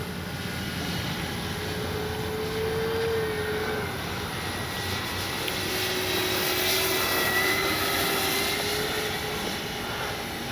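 A radio-controlled Flightline 1600mm P-51D Mustang model plane on its second flight drones overhead, a steady, moderately distant motor whine that rises and falls slightly as it passes, with no talking.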